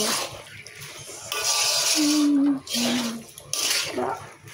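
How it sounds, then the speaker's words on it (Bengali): Water pours into a cooking pan of ghugni made with peas and potatoes, a loud splashing rush in two bursts, close up, with brief kitchen clatter between them. "কষা হয়ে গেলে তারপরে আমি জল দিই।"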